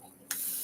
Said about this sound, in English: I have one of those continuous sprayers.